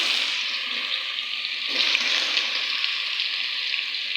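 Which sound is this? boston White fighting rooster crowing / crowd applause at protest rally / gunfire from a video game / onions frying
onions frying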